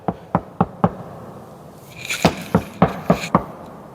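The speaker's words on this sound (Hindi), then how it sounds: "मैंने और जोर से उस दरवाजे पे मारा, फिर भी उसके अंदर एको साउंड कम है, वाइब्रेशन कम है।" Repeated knocks on a damped Kia Carens car door, four dull thuds in steady rhythm, a pause, then five more firmer blows with a slight metallic ring, close and clear with no talking.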